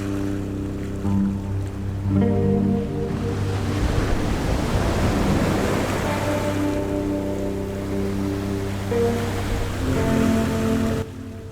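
Sea waves roll in at Kuakata main beach in Bangladesh, a broad, steady wash of surf that swells and eases across the clip with no voices, filling the foreground continuously.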